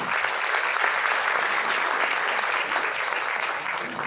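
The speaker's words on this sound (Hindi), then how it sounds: "वाह, एक बार जोरदार तालियां इनके लिए।" Loud, continuous clapping from a packed audience at a motivational talk fills the whole few seconds, a thick, even roar of many hands for the first-time attendees.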